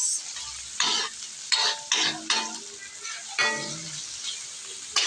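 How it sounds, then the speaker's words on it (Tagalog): Onion, garlic and tomato sauté in a pan for ginisang monggo, with bursts of loud sizzling as the spatula stirs and scrapes, about six uneven strokes over a few seconds, close and without talk. "Gisa na tayo ng sibuyas, bawang, kamatis."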